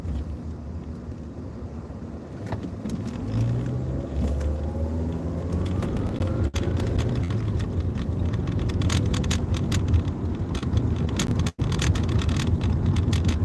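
Steady rumble of a car cruising along a road, engine and tire noise constant with some wind buffeting at the microphone and two brief sharp dropouts, no talking.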